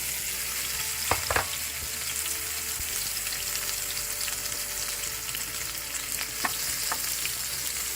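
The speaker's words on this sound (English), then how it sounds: "We're going to try and fry our potatoes the rest of the way." Microwaved potatoes frying in a small pan, a close, steady hissing sizzle with a few knocks and stirring clatters near the start, no voices.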